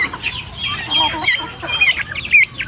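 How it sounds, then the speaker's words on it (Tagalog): Free-range chickens and turkeys cluck and call together outdoors, a busy overlapping chorus of short clucks and higher squawks, fairly close and steady throughout. "Sa manok at pabo natin. Tuwang-tuwa sila."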